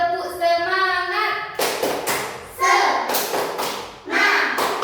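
A school class does a rhythmic spirit clap in an Indonesian maths lesson, with several sharp, loud bursts of group clapping in a short pattern. A voice chants first and children's voices follow.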